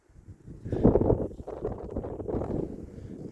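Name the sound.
wind at Mesa Verde lookout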